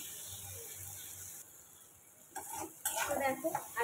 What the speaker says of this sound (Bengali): ভালো করে ভাজা করে নেবো আলুটাও।